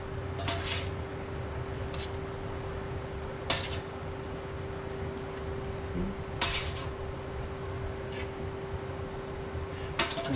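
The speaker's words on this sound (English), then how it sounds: "I'm going to transfer my semi-cooked burgers into the sauce" Semi-cooked beef burgers are moved into sauce in a pan, with a steady low sizzle broken by several sharp clinks and scrapes of a utensil against cookware at irregular intervals.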